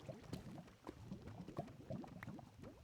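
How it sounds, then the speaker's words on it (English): Lava bubbling in a Minecraft Java Edition survival cave, a steady low gurgling and popping with soft repeated blips, heard alone at moderate, slightly distant level. "It's either lava or water. It might be lava."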